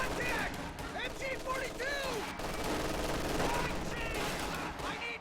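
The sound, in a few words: rifle gunfire as riflemen engage grenadiers, from a video game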